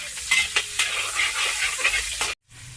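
Onions sauté in a hot pan, a close, steady sizzle broken by the scrape and clatter of stirring, then it cuts off abruptly near the end.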